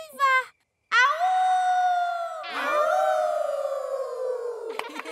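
Cartoon characters in Peppa Pig voice imitate wolf howls: a short cry, then two long, loud, rising-and-falling howls that overlap, close and bright.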